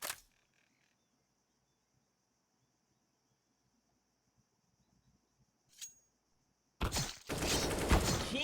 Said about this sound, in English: Vert landing the headshot onto Baibu.